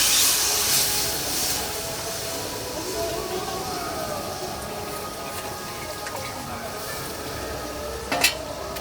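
Coconut milk poured into tomatoes frying in a pan for a Bengali banana-flower fritter curry. A steady sizzle and hiss runs throughout with stirring, and a short sharp clank comes near the end.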